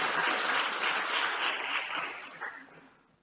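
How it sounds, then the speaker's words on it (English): Members of parliament applaud during a presidential budget vote debate, many hands clapping together in a fairly full burst that gradually thins out and fades to quiet by the end. "And they do indeed deserve a round of applause from all of us."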